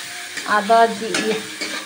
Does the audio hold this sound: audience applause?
no